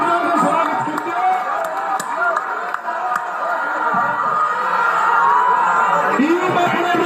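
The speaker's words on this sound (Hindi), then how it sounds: "ताली बजाकर स्वागत कीजिए" A crowd at a political gathering claps and cheers in welcome, a continuous dense wash of applause with scattered whoops and shouts, fairly close and sustained throughout.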